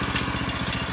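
A rock crusher chain mill engine runs steadily at idle, a loud, even mechanical chug with a fast regular pulse, heard close up and alone just before it is shut down.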